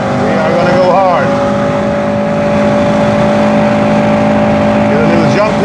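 A Honda Civic Type R FN2 with a K20 VTEC engine driven hard on the Nordschleife, its loud sustained engine drone steady throughout with rising revs and tyre noise, close and continuous.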